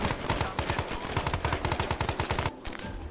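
Rapid automatic gunfire in the video game Arma 3 S.O.G. Prairie Fire rattles out in a loud, sustained burst of closely spaced shots. The firing stops abruptly near the end.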